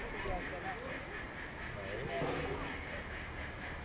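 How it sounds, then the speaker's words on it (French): A large flock of ducks quacks together in a dense, continuous chorus at the Bay of the Somme, with a faint voice mixed in beneath the noisy flock. "On entend le cri des canards."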